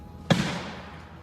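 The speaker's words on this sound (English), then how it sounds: "Gunshots can be heard on the video within a few moments of each other" One sharp gunshot-like bang cracks out and trails off in a reverberant decay against faint background noise.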